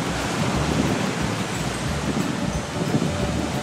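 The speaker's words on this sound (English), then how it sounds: "Don't let the waves wash her away." Ocean surf rolls onto a beach in a continuous broad wash of noise, dense and fairly loud, with gentle swells in intensity and no voices.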